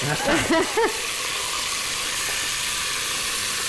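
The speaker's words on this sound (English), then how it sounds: "So we're going to brown the meat. That's browning nicely." Meat browning in a hot pan hisses and sizzles loud and steady throughout, with a brief burst of speech right at the start.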